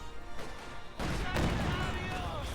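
Gunfire from soldiers running and shooting in a tank war video game: quiet background, then a sudden loud burst about a second in that rolls into sustained, crackling shots and rumble.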